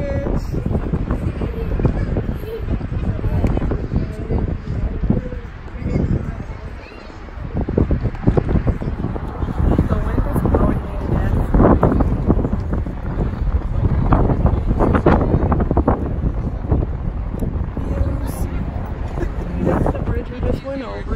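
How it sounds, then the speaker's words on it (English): Strong wind buffeting the microphone near San Francisco Bay around the Bay Bridge, a loud continuous rumbling roar with gusts throughout, the voice largely buried beneath it. "The wind is blowing me right now."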